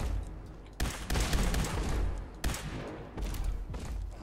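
Heavy gunfire booms in Fallout 4 as a few loud, sustained bursts of shots fire in close succession, each leaving a rumbling tail before the next volley.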